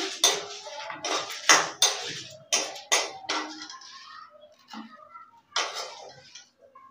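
Roasted cumin, coriander and chilies are scraped from a pan onto a plate, giving a series of sharp metallic clinks and scrapes in an irregular rhythm, close and fairly clear, with a few quiet gaps.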